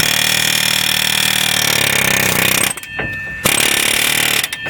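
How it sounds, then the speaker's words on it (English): A cheap air hammer pounds at a ball joint on a 2005 Dodge Ram 2500 4x4, a loud, continuous rapid hammering with two brief pauses before it resumes. "I figured I'd try the cheap air hammer, and I've got it pretty much going pretty good."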